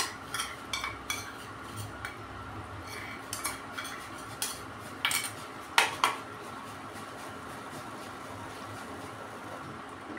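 A spoon scrapes and taps against a metal pan while cashew and poppy seed paste is stirred into masala, with sharp irregular clinks scattered over a faint background hiss.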